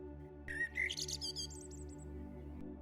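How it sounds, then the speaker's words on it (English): A small bird in a forest gives a short run of high, bright chirps and tweets, a few quick notes clustered together and then fading, fairly faint over a low steady hum. "A small, lonely chirp, just once, and then again."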